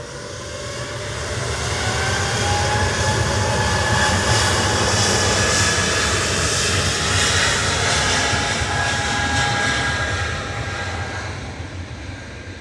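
An Embraer E2 jet departs Manchester Airport for Amsterdam, a loud sustained engine roar rising then fading, with whining tonal notes drifting through the rumble and no voices.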